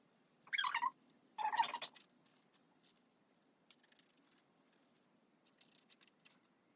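Scissors snip slits into folded paper in two quick bursts of crisp cutting near the start, followed by faint scattered rustles and handling noises in a quiet room.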